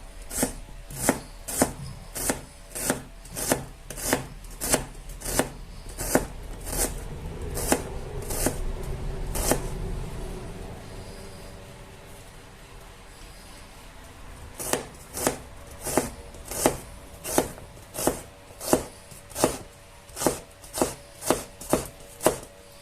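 Knife chopping ingredients for a chunky pork pasta on a cutting board, steady rhythmic close thuds in two runs separated by a brief pause, no talking.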